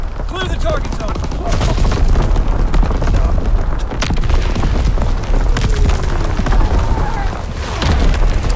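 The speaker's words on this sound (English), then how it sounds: "Enemy mortar fire incoming!" Enemy mortar and artillery shells burst in a Call of Duty WWII battle, with heavy rumbling booms and sharp blasts following one another amid constant battlefield noise.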